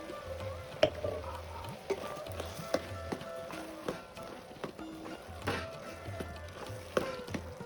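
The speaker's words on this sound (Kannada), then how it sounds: "ಮಸಾಲೆ ಹಾಕ್ಕೊಂಡು ತಿರುಗಿಸ್ಕೊಳ್ಳೋಣ." Ground masala being stirred and fried in a pan for avarekalu sambar, a soft sizzle under repeated light scrapes and taps of a spoon against the pan, fairly quiet and close.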